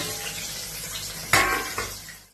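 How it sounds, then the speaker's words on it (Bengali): Small fish washed under running kitchen water make a steady broadband rush, with a sharp clatter partway through and a second splash after it. The sound fades out at the end. "মা সব মাছ ধুচ্ছে"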